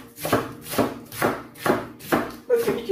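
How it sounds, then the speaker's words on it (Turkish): A knife slices half a head of lettuce or curly leaf lettuce thinly on a board, close up, in six evenly spaced chopping strokes with a soft crunch on each cut. "İnce ince kesiyoruz."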